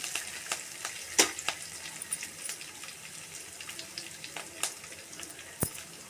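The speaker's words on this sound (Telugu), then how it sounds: "పోపు వేస్తున్నాను. ఇది బాగా వేగాలి." Tempering spices frying in hot oil in a pan for a colocasia (chamadumpa) fry, a quiet steady sizzle with occasional sharp pops and crackles, close and without talk.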